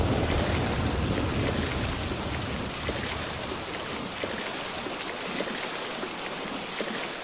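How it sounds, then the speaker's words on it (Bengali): Heavy rain in a Bengali cartoon, a dense, loud, continuous downpour hissing on surfaces, with a deeper rumble at the start that eases into a steady wash of falling water. "দেখছিস না বৃষ্টির কি তেজ?"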